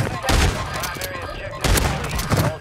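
Rapid gunfire bursts from a Call of Duty match, two loud fusillades of shots separated by a quieter stretch, with players' voices faintly mixed in.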